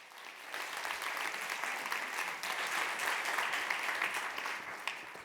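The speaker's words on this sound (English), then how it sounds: "So let's have a big round of applause for Chetana Deorah." An audience claps for a speaker being introduced at a design talk, a dense, even round of applause that starts after a brief moment and holds steady to the end.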